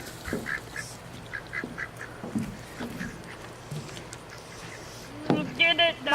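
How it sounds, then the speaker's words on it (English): A duck at a campground near Houston, Texas, quacks in short, scattered calls at middle distance over an outdoor background, with a louder burst of calls near the end. "One over there is my favorite duck."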